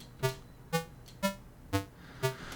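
Five evenly spaced synth notes from randomly changed settings, each a bright, buzzy pluck with a quick attack and short decay, repeating in a steady rhythm.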